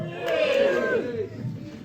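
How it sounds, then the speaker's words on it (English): Wedding guests from London cheer and shout together at a reception during a best man speech, a loud crowd roar that swells and then tapers off. "Can we get a cheer from the guys from London?"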